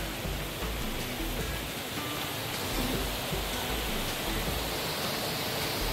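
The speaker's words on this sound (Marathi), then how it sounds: "बाजूला धबधब्याचं पाणी आहे आणि पूर्ण झाडांमध्ये लपलेला आहे धबधबा" Water from a waterfall hidden among trees beside a forest path in Ghonsari village, Konkan, makes a steady, broad hiss of rushing flow, continuous and moderately near with no talk.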